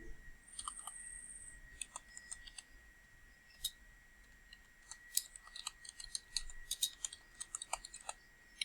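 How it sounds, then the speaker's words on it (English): Light, irregular keystrokes tap on a computer keyboard, faint and close, in uneven bursts over a quiet room hum with no talking. "I'm going to select center, and I'm going to start my typing."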